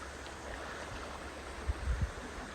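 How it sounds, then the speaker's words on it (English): Water runs to one side along a coastal trail, a soft continuous rushing wash that stays faint and steady, with a few low thumps from footsteps or wind near the end. "I actually hear water running to my right."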